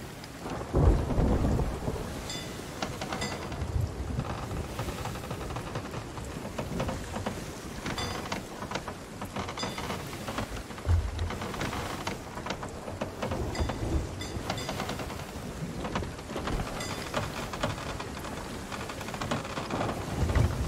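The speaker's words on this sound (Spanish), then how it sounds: "Uy, tormenta." Sea of Thieves storm: heavy rain hisses steadily while deep thunder rumbles and cracks break out several times, booming loudly over the downpour.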